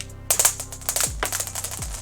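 An airsoft magazine for a Silverback SRS sniper rifle, handled with BBs loose inside, gives a quick burst of close, light clicky rattles over about a second and a half.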